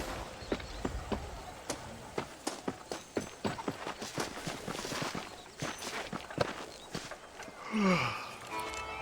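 Horse hooves clip-clopping in the video game Red Dead Redemption, a steady walking rhythm of distinct hoof strikes close by, ending with a brief whinny-like sound near the end.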